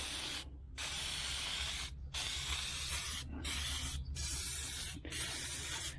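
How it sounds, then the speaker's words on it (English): Repeated bursts of aerosol Meguiar's tire shine spray on a dually truck, five or so long hissing blasts with short gaps between, steady and close. "I like the aerosol. It's easier control."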